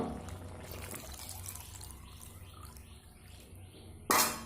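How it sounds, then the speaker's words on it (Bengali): Water poured into a pot of boiled dal, drumstick and vegetables, a soft continuous trickle for about four seconds, quiet and close, ending in a brief louder splash. "এবার এখানে আমি দিয়ে দেব পরিমাণ মতো জল"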